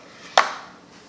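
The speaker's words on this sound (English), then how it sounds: "You hear the sound? That's how crispy they are." Hot, freshly broiled crispy chicken wings give a single sharp, close crunch that fades quickly into quiet.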